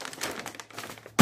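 A bag of snacks crinkles as it is handled, soft rustling and crackling in short bursts throughout, close by, ending with a louder rustle.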